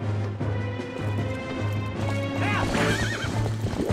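A horse in a boss fight in The Legend of Zelda: Twilight Princess gallops with rhythmic clip-clop hoofbeats and then whinnies loudly, alongside game effects and music.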